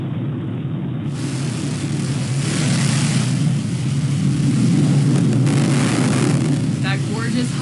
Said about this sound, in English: There's the relight of that BE-3 engine.